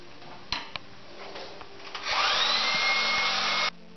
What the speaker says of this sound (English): Now the next thing we're going to do is dry it with a hairdryer.